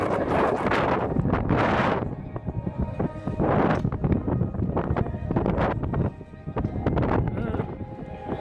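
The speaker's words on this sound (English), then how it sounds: "Very windy." Strong gusts of wind buffet the microphone in repeated bursts at the Korean DMZ, with brief calmer gaps and a voice faintly in the background.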